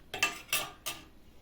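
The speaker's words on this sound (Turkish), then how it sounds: "Şöyle kremamı güzelce karıştırdım." A metal spoon scrapes and clinks against a bowl three times in quick succession while cream is stirred into warm milk for cold baklava, the strokes sharp and close.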